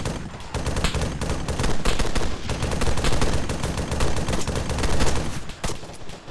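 Sustained machine-gun fire in the military video game ARMA 3, a dense rattling stream of rapid shots mixed with other gunfire throughout.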